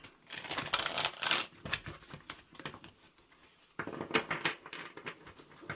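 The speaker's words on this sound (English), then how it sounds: "let's give these cards a shuffle and see what we get today" Brisk shuffling of a deck of tarot cards, two bursts of riffling and flicking with a short pause between, close up with no talking.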